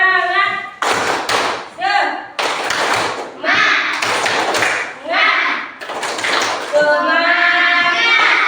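A classroom of children performs the Indonesian 'tepuk semangat' clapping chant, with bursts of rhythmic hand claps in patterned groups alternating with chanted voices and a teacher's speech.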